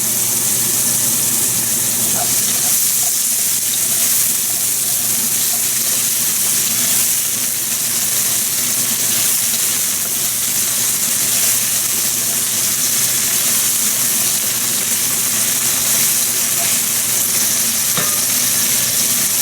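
Onions sizzling loudly in a hot pan with sugar added to help them brown, a dense continuous frying hiss with scraping and stirring throughout, no voices.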